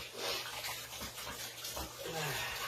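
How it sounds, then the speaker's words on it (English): Running tap water splashes steadily into a basin, with soft irregular sloshing as hands move under the stream. "let me wash my hands"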